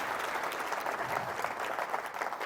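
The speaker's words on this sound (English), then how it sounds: "How about that round of applause?" Audience applause at a corporate stage event for Liberty Utilities in Canada, a dense, continuous round of clapping from a room full of people, steady and moderately distant.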